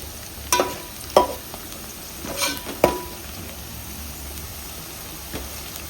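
Onions fry in a generous amount of oil, making a constant soft sizzle broken by a few sharp scrapes and clacks as they are stirred. No one speaks.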